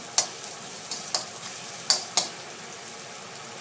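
Curry paste is stir-fried in a pan for a catfish dish, a low sizzle punctuated by several sharp scraping clicks of a utensil against the pan at irregular intervals, close and without speech.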